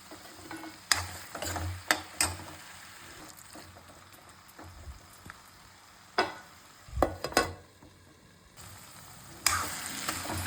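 Chopped okra sizzles in a pan with cooked tomato and chili powder, a low frying hiss broken by scattered scraping and stirring knocks, some louder, close and sharp, with no talking.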